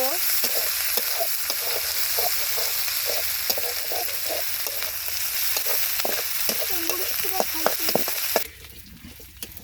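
Chopped onion, green chilli and garlic fry in hot oil, a loud, close sizzle with rapid spatula scrapes and clacks that drops off abruptly near the end.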